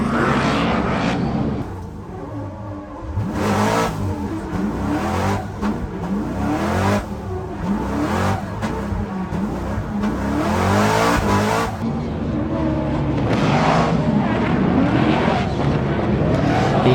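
Drift cars rev hard at a motorsport event, their engines surging and roaring continuously with loud, rising and falling bursts that fill the air from start to finish.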